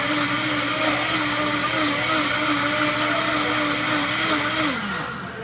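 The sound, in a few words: Vitamix blender running during quick cleanup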